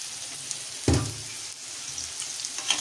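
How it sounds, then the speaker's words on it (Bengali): Potatoes frying in oil in a pan for soybean pulao, a low continuous sizzle with one firm scrape and thump of a stir partway through, close and fairly quiet, with no talking. "আলুগুলোকে লাল লাল করে ভাজি, ভালো করে নেড়ে চেড়ে দিচ্ছি।"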